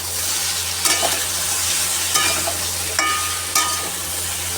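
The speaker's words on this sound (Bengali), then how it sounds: "সবজিগুলো মোটামুটি ভালো করে ভাজা হয়ে গেছে" Steady loud sizzling of vegetables with ginger paste and ground chili, turmeric and cumin frying in a pan, with a few sharp metallic clinks of a utensil stirring at irregular intervals.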